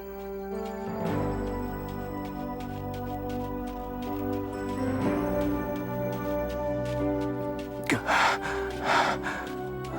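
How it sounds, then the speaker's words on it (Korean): A man pants heavily, gasping and breathing hard after finishing a race despite an injured leg, in long, loud ragged breaths over a sustained musical backdrop. "그는 숨을 헐떡이며 간신히 대답했습니다"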